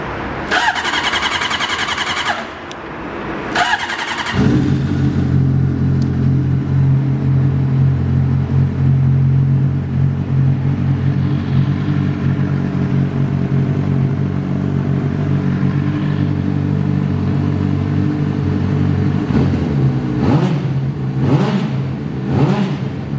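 A 2009 Honda CBR 600 motorcycle cranks with a starter whine, catches and settles into a loud, close idle rumble, then blips its throttle in a few quick revs near the end.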